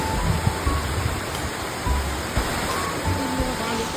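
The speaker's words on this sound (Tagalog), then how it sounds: "dito na kami sa entrance ng busay nila" Nalalata Falls in Lubgan, Bula, Camarines Sur, heard at the entrance as a steady rushing roar of falling water with voices and footsteps faint beneath.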